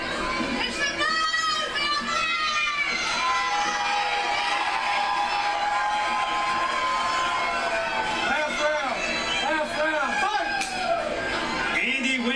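A large indoor crowd at a women's MMA fight in Bossier City, Louisiana roars and whistles continuously, with excited shouts and yells rising and falling throughout.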